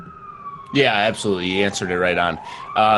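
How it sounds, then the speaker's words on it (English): A siren wails steadily in the background through a remote Q&A conversation, its faint rising tone running beneath several people speaking back and forth. "Sorry for the sirens in the background."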